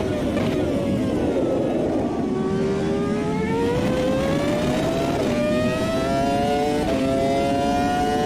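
A Datsun GTR race car in Automobilista 2, its engine revving and climbing through gears in repeated rising pulls, loud and continuous, with a brief dip at each shift.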